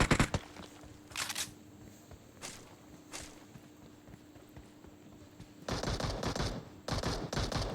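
Gunfire in a shooter video game, a squad-wipe match: scattered bursts of shots crack out early on, then a louder, denser volley of firing takes over near the end, with footstep-like clatter underneath.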